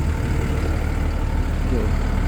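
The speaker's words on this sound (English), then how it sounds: "Truck runs, drives good." A Peterbilt box tool truck's engine runs at a steady low rumble, loud and continuous throughout, with a faint tonal sweep near the end.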